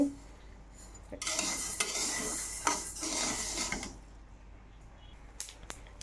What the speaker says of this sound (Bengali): সুন্দর করে ডালগুলো দেখুন ভেজে নিচ্ছি।